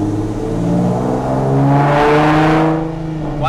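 Car engine revving loudly and close, pitch climbing and dropping as the driver shifts up through the gears, sustained without pauses.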